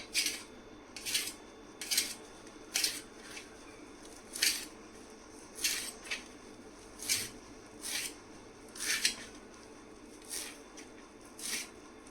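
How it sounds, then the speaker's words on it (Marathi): Fresh coriander being finely chopped with a knife directly in a dish, a steady series of crisp, fairly close cutting strokes repeating roughly every second, with no talk. "बारीक चिरून घेतले कोथिंबीर."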